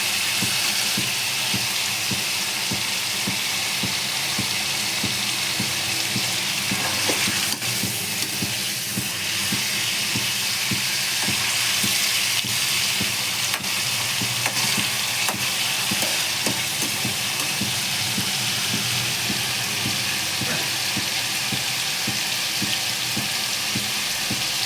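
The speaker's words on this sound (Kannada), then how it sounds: "ಸೊ ಪನ್ನೀರೆಲ್ಲ ಸೊ ಸ್ಮೂತಾಗಿ ಫ್ರೈ ಆಗ್ತಾಯಿದೆ." Paneer fries in hot oil in a pan with a loud, constant sizzle and hiss that runs unbroken for the whole stretch, with faint stirring scrapes mixed in and no voices.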